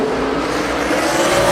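NASCAR stock cars race at Watkins Glen, a loud, continuous engine roar at full throttle that holds steady and builds slightly, with no voices over it.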